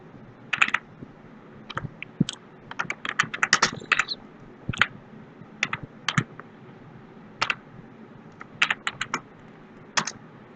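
Sparse clicks of a computer keyboard as commands are entered, short irregular bursts of keystrokes with gaps between, fairly close and quiet, no voices.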